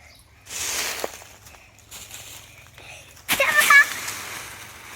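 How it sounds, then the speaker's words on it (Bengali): Water splashing as two young girls bathe outdoors, a few soft splashes early, then a louder, sharper burst of splashing near the end, mixed with children's voices talking throughout. "স্নান করতে হবে, জলটা ঠান্ডা হয়ে যাবে।"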